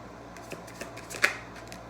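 Faint, soft rustle of tarot cards being shuffled, with a few light taps and one sharper snap near the end.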